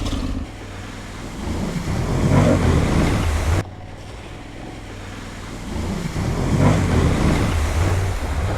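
An Aprilia Tuareg 660 motorcycle ploughs through deep, nasty trail water on a winter ride, a loud continuous rush of splashing and engine noise across two surging passes with a brief drop between them.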